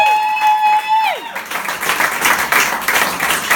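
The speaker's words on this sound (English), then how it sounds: "massive round of applause for the Trent poet and Nick Degg tonight" Audience applause and cheering from a crowd at a poetry event in Stoke, a broad steady clatter of many hands that takes over after a held sung or spoken tone fades out.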